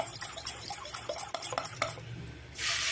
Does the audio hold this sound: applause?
no